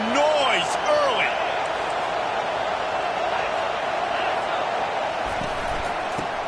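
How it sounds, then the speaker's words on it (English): Stadium crowd noise in a college football video game (CFB 25), a loud, dense, sustained roar. A few brief tonal calls or whistles rise over it at the start, and a low thump comes near the end. "This crowd bringing the energy and noise early."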